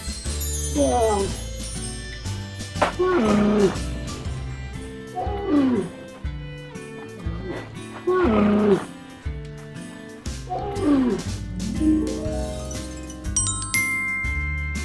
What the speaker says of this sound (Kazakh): Түйе.